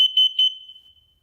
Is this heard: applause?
no